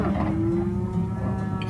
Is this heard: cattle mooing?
yes